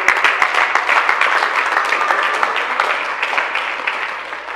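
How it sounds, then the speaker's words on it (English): A church congregation applauding during a Sabbath sermon, a dense, sustained crowd clapping that slowly tapers off toward the end. "We hope the claps keep going"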